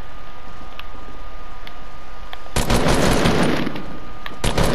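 Bursts of gunfire in the video game Fortnite: faint scattered shots at first, then a loud, rapid volley of blasts, followed by another sharp burst, with no talking over it.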